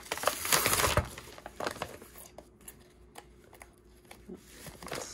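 Foam adhesive dots are pulled from their paper packaging at close range, giving crinkly, tearing rustles. A louder burst comes at the start, followed by softer intermittent crackles and peeling sounds, with no talking.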